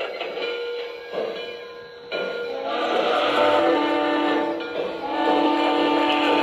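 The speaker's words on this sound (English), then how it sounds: "Train is moving." A Lionel Legacy Russian Decapod Frisco 1630 model locomotive starts off, with a rising mechanical hum, steady rolling clatter and tonal whine, close and continuous over several seconds.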